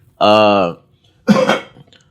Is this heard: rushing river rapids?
no